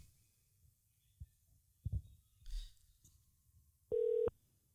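A telephone call being placed to reach someone: a few faint clicks and handling knocks, then a single short electronic ring tone sounds clearly near the end, with no talk.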